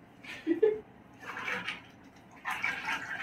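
Water pours into a bathtub for a bubble bath, a soft rushing hiss that swells and fades in two or three bursts, fairly close, with no talking.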